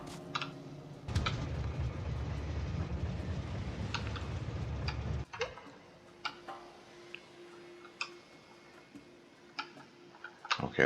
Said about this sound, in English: that was the coal train